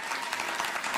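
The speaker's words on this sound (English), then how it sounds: "Round of applause." Short burst of audience applause at a live concert, a second of dense crowd clapping at moderate level.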